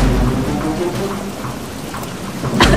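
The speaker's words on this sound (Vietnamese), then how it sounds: "Phải nhanh đi tránh bão thôi con" Cartoon storm with steady heavy rain, rolling thunder underneath and a sharp thunderclap near the end.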